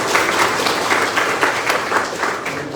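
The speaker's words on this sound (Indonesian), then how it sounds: "Tepuk tangan coba." Loud audience applause at a regency head's address in Kebumen, many hands clapping in a dense, rolling burst with rhythmic swells, close and sustained across the whole stretch.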